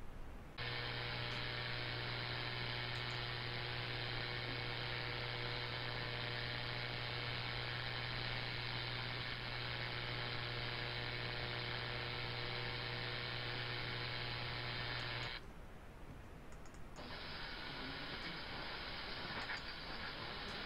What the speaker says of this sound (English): here's a demonstration of the noise that suddenly appeared at my location, and I'll show you an example of what the 12 megahertz band looks like with the noise